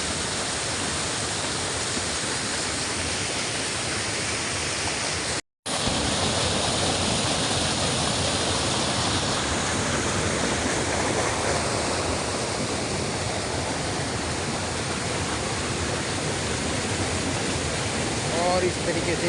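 A Himalayan mountain waterfall in an Uttarakhand village, fed by clear water from oak forests above, roars in a steady, loud, close-up rush with one momentary dropout partway through.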